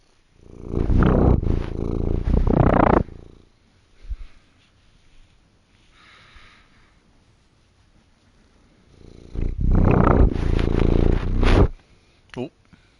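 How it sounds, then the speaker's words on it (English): In the Anno 1800 video game on PS5, a cat purrs in two long, loud, rumbling bursts separated by quieter game ambience, with a short faint sound in between. "it was a cat sound"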